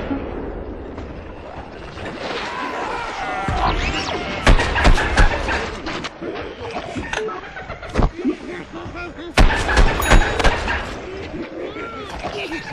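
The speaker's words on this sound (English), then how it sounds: "scientist just threw his sticky explody ball. It'll stick to the world, it'll also stick to enemies before exploding" A scientist's sticky explody ball goes off in Plants vs Zombies Garden Warfare, one of several heavy booms and thumps in a dense, loud stretch of game gunfire and impacts, with commentary running over it.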